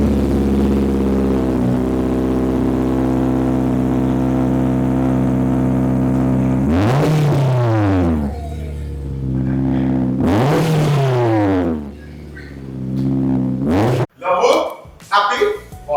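A custom car's engine with a loud performance exhaust idles with a deep steady rumble, then revs hard twice in rising and falling sweeps, close and very loud, ending in a few short sharp blips.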